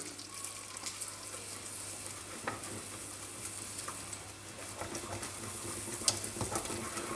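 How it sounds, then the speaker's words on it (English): Flour is stirred into hot butter in a pan for a béchamel, a quiet steady sizzle with soft scraping strokes of the spoon and an occasional light clink, close and faint. "So I'm going to take my flour and I'm going to add it in while stirring."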